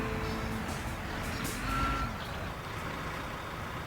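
Truck reversing beeps in the Construction Simulator video game as a large truck backs up with a trailer: a close electronic warning tone over a steady engine rumble, with no talk.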